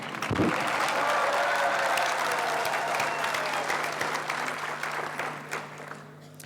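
Audience at a university graduation ceremony applauds the choir, a dense, steady wash of clapping from a large crowd that holds strong and then gradually thins toward the end.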